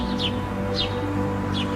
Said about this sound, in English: Hear the birdies tweeting. Tweet, tweet.